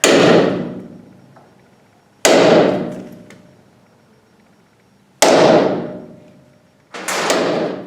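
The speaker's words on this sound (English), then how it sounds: "I go along and hit it with the center punch" Four sharp metallic strikes of a center punch on metal while working on an MG Midget, spaced a couple of seconds apart, each ringing out and fading before the next; close and loud with no talking.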